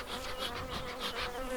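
Honey bees swarm around an open insulated horizontal Layens hive, a dense, continuous buzzing hum close by with individual bees droning past.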